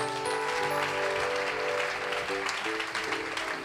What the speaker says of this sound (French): J'attends que tu acclames Jésus d'abord pour ça.